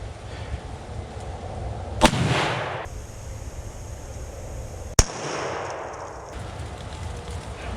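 Two loud rifle shots at a buck during a Missouri rifle deer season, each a sharp blast with a rolling echo across open country, spaced about three seconds apart over steady outdoor wind.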